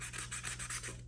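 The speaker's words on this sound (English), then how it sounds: "Now I'm gonna do some little sanding with the little file." A small file rasps back and forth across a model rocket part, about seven quick, even strokes close up and fairly quiet, with a low steady hum beneath and no talking.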